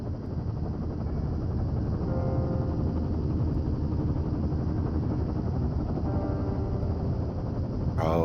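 A helicopter in the game Firewatch drones steadily with a continuous, loud rotor and engine rumble that stays constant throughout, with no talking over it.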